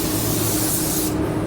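Pearl white paint hisses from a spray can in one steady, close, loud burst that cuts off near the end, with no voices.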